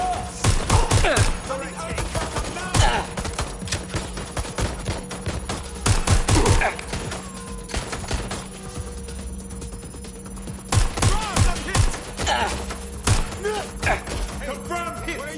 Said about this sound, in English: Landing the shot. Taking fire. Get to cover.